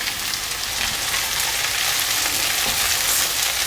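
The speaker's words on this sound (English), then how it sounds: "And I'm going to cook those" Tomatoes and capers for Sicilian caponata cooking in a pan, a steady, dense sizzle that holds evenly for the whole stretch with no voices.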